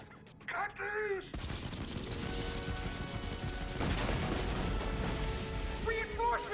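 Battleship turrets in the anime Gurren Lagann open fire in a dense, sustained barrage of booming blasts after a brief voiced lead-in, the heavy bombardment rolling on loud and continuous with music mixed underneath.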